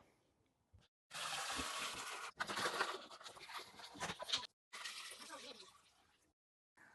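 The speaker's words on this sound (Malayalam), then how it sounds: "ഇനി നമുക്കിനി വെള്ളം നിറയ്ക്കാം." Tap water poured into an aquarium tank makes a loud, steady rushing gush that runs in three long stretches separated by brief pauses, with faint sounds at the start and end.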